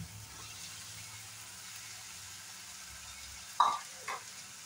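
Cut potatoes dropped into a hot pan of sizzling oil and spices for banana stem curry, with a soft constant frying hiss and two sharp splashing bursts near the end.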